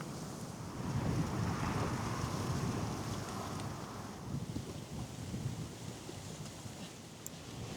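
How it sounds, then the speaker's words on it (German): Wind blowing by the Tagliamento river at Bibione, Italy, gusting stronger and weaker: a continuous broad rushing roar with microphone buffeting, fairly loud throughout and swelling early on, with no voices. "Aber leider, der Wind ist da, mal stärker, mal schwächer und das ist relativ unangenehm."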